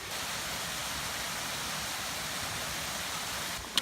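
Small waterfall beside a hiking trail in Dolly Sods, a steady close rush of falling water with a brief knock near the end.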